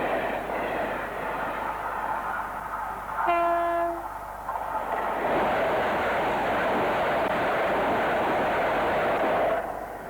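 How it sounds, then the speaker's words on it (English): A locomotive-hauled train on the Bluebell heritage railway, a loud close rumble with a brief two-tone horn blast early on, followed by a sustained roar as the train passes. "These powerful locos are a popular choice for mainline specials and should see frequent use in 1993."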